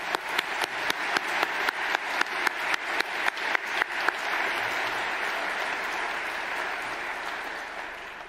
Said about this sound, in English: So let's put our hands together to thank our loved ones and also congratulate the graduating